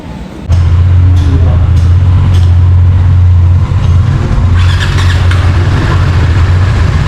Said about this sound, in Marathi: गाडी पण चालू करून घेतली आहे आणि आपण हॉटेल सोडतोय